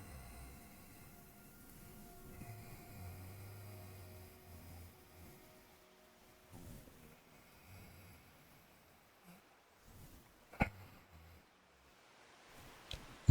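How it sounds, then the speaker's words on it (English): Raspy open-mouth Ujjayi breathing, a slow throaty breath drawn in and out through an open mouth, soft and close with a faint airy rasp, ending in a couple of brief louder clicks. "It's a slightly raspy breath."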